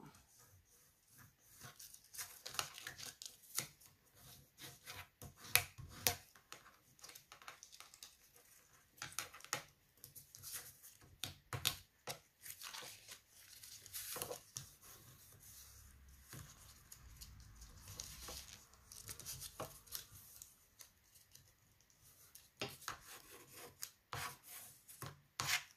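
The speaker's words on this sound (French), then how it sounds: "on va marquer les plis" Paper is creased into folds to form a box: soft, quiet rubbing and scraping strokes in irregular bursts, close up, with faint tapping between them and no talk.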